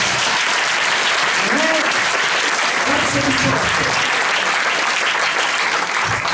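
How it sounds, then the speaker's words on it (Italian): Church congregation applauding strongly during an Italian sermon, a loud, dense and unbroken roar of clapping with voices shouting and cheering within it. "fai un applauso di forza"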